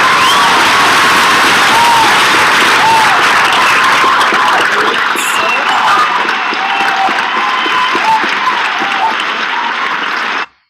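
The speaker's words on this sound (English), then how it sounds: "I just want to go ahead and say a round of applause to the" Sustained applause with scattered cheers and whoops from an audience welcoming new moot court members, steady and loud for about ten seconds before stopping abruptly.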